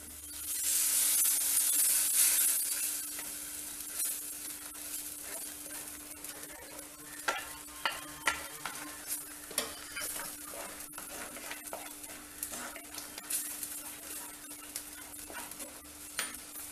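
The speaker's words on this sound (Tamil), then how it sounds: "கொஞ்சம் இப்படி கொஞ்சம் கிண்டுங்க, தூரில் பிடிச்சிடாம கிண்டுங்க" Paneer gravy simmering and sizzling in a pan while being stirred, a steady hiss with scraping and clinking strokes of the spoon, close and fairly quiet.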